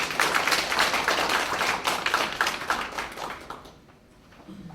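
Audience applause at a Korean food and drug safety open forum, a dense, even round of clapping that carries for nearly four seconds, then fades out quickly to quiet.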